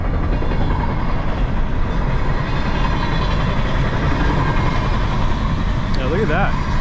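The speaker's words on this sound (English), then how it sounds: "Train coming." A passing train, heard from inside a car sitting in traffic, makes a steady, loud rolling rumble with faint rail clatter throughout, and a brief voice-like sound rises near the end.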